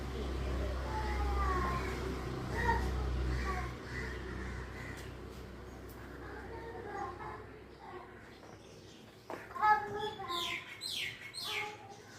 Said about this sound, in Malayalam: പിന്നെ കിളികളൊക്കെ വിളിക്കുന്നുണ്ട്